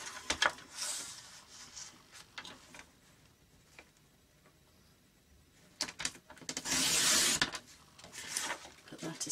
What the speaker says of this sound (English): Okay, so we get a trimmer again. I cut those down.